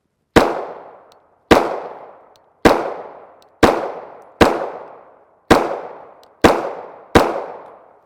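Eight sharp, loud gunshots at a steady one-second rhythm from a PSA Dagger 9mm pistol, a Glock 19 Gen 3 clone with a 4.5-inch barrel, firing 115gr FMJ rounds in Sterling brass cases, each crack followed by a short ringing decay.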